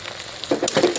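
Small baby potatoes coated in cumin powder, garam masala and salt fry in a pan with a brief, close crackling sizzle. Quick stirring scrapes come in over the second half.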